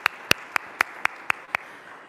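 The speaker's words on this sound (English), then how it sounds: "let's give them a round of applause." Audience applause for a group of high school students: about seven separate, sharp claps in a steady rhythm, close and distinct over a quiet background, like a few hands clapping together.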